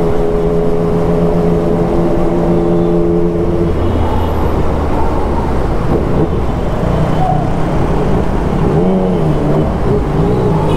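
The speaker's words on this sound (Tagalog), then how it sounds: "Galit yung makina, dapat rest lang" A car engine revs hard during a drive through Baliwag, a loud steady drone that drops in pitch partway and settles into a heavy rumble under road noise.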